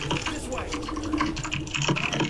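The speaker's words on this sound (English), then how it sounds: "Holy crap, that's some typing!" Fast, dense keyboard typing up close during a League of Legends match, a continuous rattle of keystrokes mixed with game sounds and background chatter.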